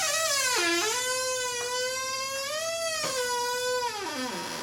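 A squeaky door hinge creaks in long, wavering high-pitched groans that rise and fall as the door swings back and forth, loud and close with no talking.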